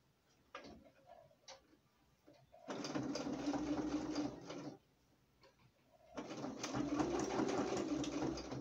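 A sewing machine stitches a finishing tack on a patchwork dish towel of tricoline fabric, running in two steady bursts of a few seconds each with soft handling clicks in the pauses between them.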